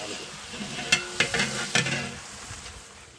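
Tomatoes sauté in hot oil in a large pot for a big batch of mutton biryani, a soft continuous sizzle with a few louder scraping stirs close by, no speech.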